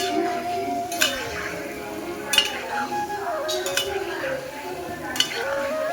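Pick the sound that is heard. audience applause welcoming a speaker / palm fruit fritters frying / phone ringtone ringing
palm fruit fritters frying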